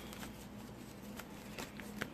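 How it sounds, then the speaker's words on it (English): Tarot cards shuffled by hand make soft, close riffling and light slaps in a quiet room, faint and irregular, with no talking. "So let me shuffle one more time for Miss Tanya Marcia Freeman."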